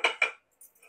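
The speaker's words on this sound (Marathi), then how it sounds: "मी गॅस बंद केलाय आणि हा भांडा आता आपण खाली उतरवून घेऊया" A metal idli steamer pot is lifted off a stove, two quick sharp clinks of metal close together followed by faint light taps, brief and close.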